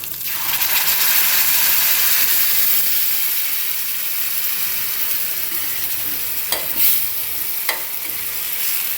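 Loud, steady sizzling and bubbling from a hot pan after ground spice paste is poured in for prawn gravy, with a couple of faint clinks, no talking.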